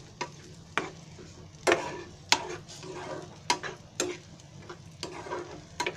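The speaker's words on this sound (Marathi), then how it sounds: "आता ती एकत्र अशी मिक्स करायची, सारखी हलवतच राहायची" Egg bhurji mixture being stirred in a pan, with irregular spoon scrapes and taps against the pan over a low, steady sizzling background, no talk.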